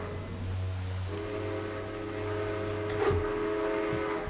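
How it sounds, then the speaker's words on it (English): An arriving train rumbles nearby with a steady low drone, and a long whistle sounds over it, growing slightly louder toward the end. "it sounds like that noon train was right on time"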